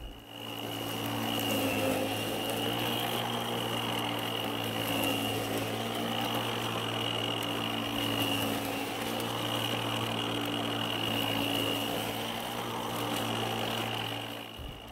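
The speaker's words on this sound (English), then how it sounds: "This mower is pretty strong for its size, as you can tell." A WORX 14-inch battery lawn mower runs with an even, continuous electric whir and a steady tonal hum for the whole stretch, fairly close, with no talk.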